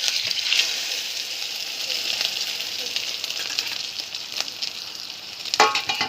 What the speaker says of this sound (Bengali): তেলটা গরম হইয়া আইছে, এখন সারি দিমু ডিম।